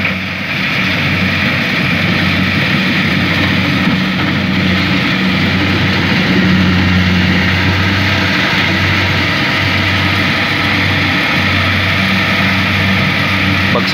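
A Kubota L5018 tractor hauling harvested corn on a farm gives off a steady, loud low engine drone with a constant rumbling hum that runs unbroken throughout.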